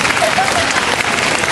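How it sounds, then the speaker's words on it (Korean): A large crowd of guests, former students and parents applauds at a school principal's retirement ceremony, dense steady clapping filling the hall throughout. "함께 큰 박수를 보내주시기 바랍니다"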